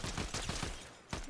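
Rapid bursts of gunfire in the video game Fortnite, several quick shots in a fast rhythm followed by a short pause and one more shot, fairly faint.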